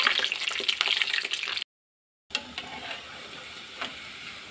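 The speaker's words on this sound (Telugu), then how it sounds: "ఈలోపు చేపలు కూడా చూడండి చక్కగా వేగినాయేవో" Fish pieces fry in hot oil, giving a bright, crackling sizzle up close. It breaks off for a moment of near silence, then comes back softer with faint pops.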